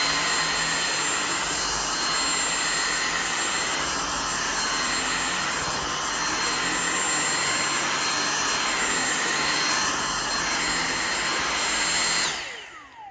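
A Dyson vacuum cleaner runs continuously with a loud whining motor that rises and falls in a slow, regular pulsing surge, then cuts off abruptly at the end.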